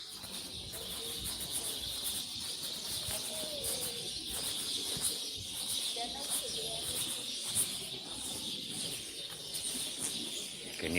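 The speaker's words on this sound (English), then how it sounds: "Can you hear them birds singing?" Birds sing from a single tree outdoors, a steady high chirping chorus running continuously at moderate distance beneath a constant background hiss.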